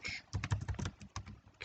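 Computer keyboard keys tapped in a short quick burst while renaming items in FreeCAD, a dozen or so soft close clicks in an uneven rhythm with no talking.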